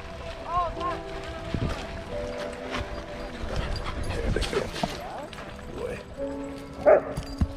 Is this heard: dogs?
yes